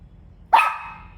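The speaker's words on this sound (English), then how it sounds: "Teddy, no barking, buddy" A single sharp dog bark, fairly close and loud, trailing off briefly against a quiet background.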